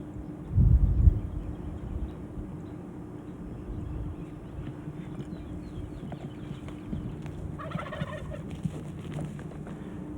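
A wild turkey tom gobbles in the open during a spring hunt, a short rattling burst near the start and a fainter, farther call later, over quiet outdoor ambience.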